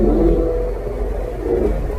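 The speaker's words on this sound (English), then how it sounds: "Driving right now" A car engine drones steadily while driving, a close, low rumble with faint road noise.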